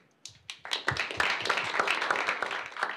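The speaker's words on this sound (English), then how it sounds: "let's give a great applause to Henry" Applause for a speaker at a Python meetup talk builds from a few scattered claps into a dense burst of clapping from a modest audience, then holds steady for a couple of seconds.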